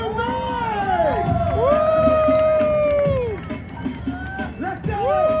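A street crowd watching an acrobat show in Times Square, New York, cheers and whoops loudly and close by, with rising and falling shouted voices layered over a general hubbub.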